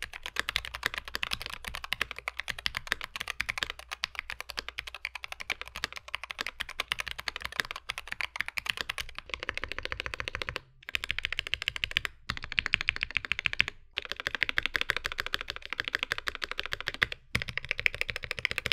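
Steady typing on a modded Wooting 60HE keyboard fitted with zip-fit foam and tape mod, a dense stream of close key clacks with a few brief pauses.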